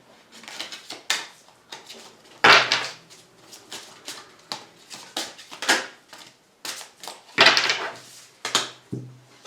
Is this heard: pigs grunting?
no